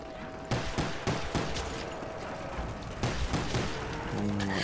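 Rapid bursts of gunfire from Call of Duty Zombies on the Ascension map, several loud volleys in quick succession with mechanical clicks and game ambience between them.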